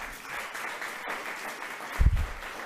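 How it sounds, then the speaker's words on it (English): An audience at an evening cottage meeting in Oropouche East applauds with a steady, moderately distant clatter of clapping, swelling briefly near the end with a few louder thumps. "Give David Welch a round of applause."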